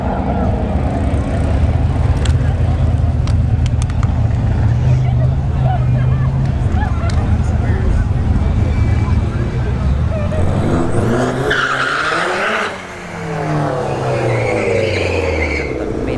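A Mini Cooper and a BMW 3 Series launching at a drag strip, engines roaring loud and steady, then a rising pair of engine notes sweeping past nearby, with crowd babble and commentary over the top.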